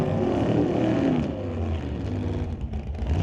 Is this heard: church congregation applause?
no